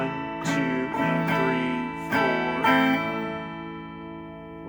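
An acoustic guitar plays a strummed rhythm with index-finger hammer-ons, several sharp strums ringing out in a steady pattern, close and clear, with a brief spoken word.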